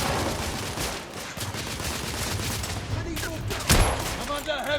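Heavy gunfire from a firefight in The Order: 1886, dense overlapping shots and bursts roaring continuously, with a loud blast near the end and shouted voices mixed in.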